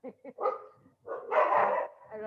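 A dog barks in short, sharp bursts during an online teaching session, loud and close near the start, with a voice talking over and around the barks.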